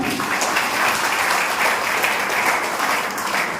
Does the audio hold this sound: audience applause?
yes